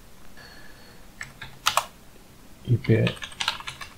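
Router login typed on a computer keyboard, a few quiet scattered key clicks in short bursts, with a little speech in the background.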